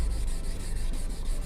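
Steady hand sanding of a car headlight lens with fine wet-sanding paper, a continuous close rubbing and scraping stroke back and forth with no pauses.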